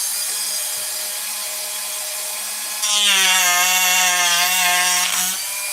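A piece of wood is sawn to a shorter length, a steady rasping cut that grows louder and more tonal partway through before easing off, close and without talk.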